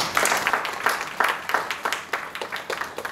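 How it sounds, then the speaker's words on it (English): An audience claps for Sri Rajanji at a spiritual talk on meditation, with fairly rhythmic, moderately loud hand claps in repeated bursts and no talking. "give a big clap to Sri Rajanji"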